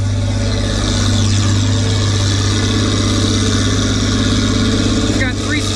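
A bulldozer engine works steadily while clearing tree stumps and roots, a loud, continuous low diesel drone running throughout with slight load changes and a brief higher-pitched squeal near the end.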